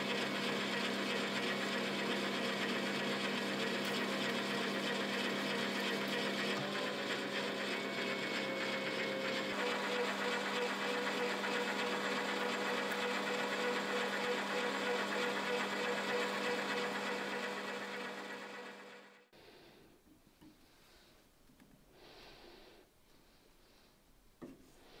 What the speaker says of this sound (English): The shank of the cutter will have 16mm, so I have to turn this down a little bit.